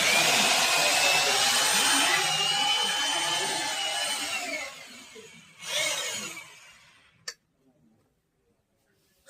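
A 1650-watt waterproof hammer drill runs with a loud, steady high whine for about five seconds, spins down, gives a brief second burst and a sharp click, then falls silent.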